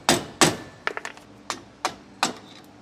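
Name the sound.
hammering out old trailer suspension bushing with screwdriver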